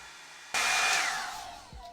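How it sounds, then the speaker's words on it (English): A Revlon One Step hair dryer switches on abruptly after a brief pause and runs with a steady, loud, close-up whooshing roar, its pitch and airflow shifting slightly near the end. "So I'm going to go through it with the new hairdryer really quick"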